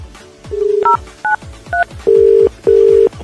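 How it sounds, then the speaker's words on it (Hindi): A telephone keypad is dialed before a prank call, producing a quick series of crisp DTMF tones: several short beeps followed by two longer held tones, close and loud with no talking. "भाई साहब को फोन लगाता हूँ।"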